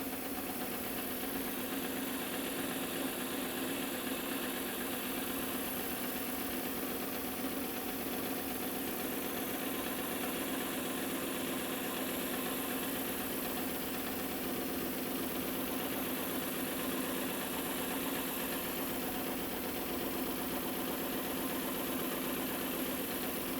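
An old shop machine without a quill feed runs steadily in a workshop, a constant mid-pitched motor hum and whine with no change in level for the whole stretch, no talking.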